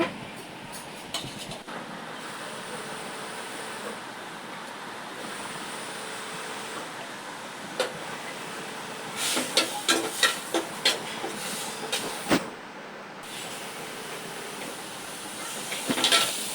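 Onions frying in oil in a cooking pot: a steady, hissing sizzle runs throughout at moderate level, with occasional sharp clinks and a cluster of louder crackles and utensil knocks midway.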